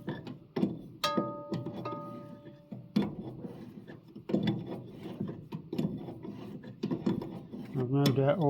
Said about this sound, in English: So now I've just got to twitch the adjuster up so it shoves the pulley down.